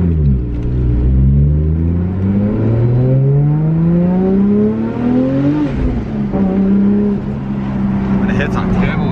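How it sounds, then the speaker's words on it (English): A turbocharged car on a dyno revs hard and loud, its engine tone climbing steadily for several seconds, dropping briefly, then rising and holding high, with a voice speaking over the roar. "When it hits that turbo, it hits hard, doesn't it?"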